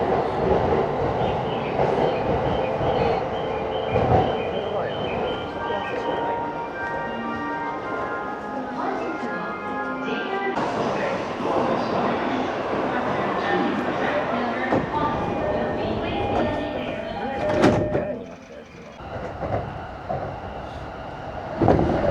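A Japanese Shinkansen bullet train pulls into a station with a loud, steady rumble and rolling wheel noise that swells and then eases off. Voices talk over it throughout.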